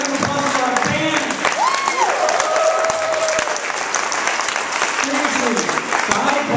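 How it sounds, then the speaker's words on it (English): A ReaderCon 2011 crowd applauds the band, with loud continuous clapping and scattered cheers, and voices talk over the clapping. "And a round of applause for our band."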